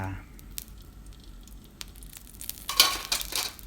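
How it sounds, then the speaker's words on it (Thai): Soft, steady sizzling of Thai jungle curry paste frying in oil over low heat, close up, with light scraping and clinks of a utensil stirring in the pan. "ผัดพริกแกงกับน้ำมันด้วยไฟอ่อน"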